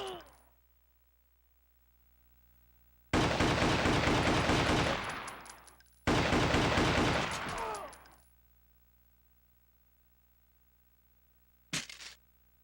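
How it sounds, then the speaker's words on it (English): Two long bursts of automatic gunfire from a PS2 video game demo, loud sustained rattling of about three and two seconds each, followed later by a single short sharp shot, with quiet gaps between. "To fire guns, press the R2 button."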